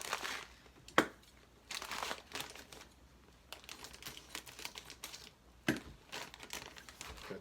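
A plastic food storage bag for rice is handled up close, crinkling and rustling in irregular bursts with a few sharp crackles, fairly quiet and without talk.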